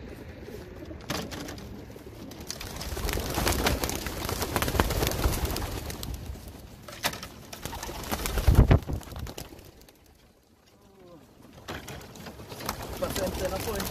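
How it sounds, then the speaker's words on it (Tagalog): Pet homing pigeons coo around a backyard loft as they are released for training, soft low cooing mixed with fluttering and handling noises, with someone talking at times. "Ayun po kung panoorin yung mga ibon namin na lilipad."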